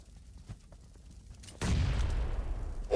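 Grenade blast in a PUBG Mobile match: quiet faint rumbling at first, then a sudden loud explosion that rolls on as a heavy, decaying boom and debris noise.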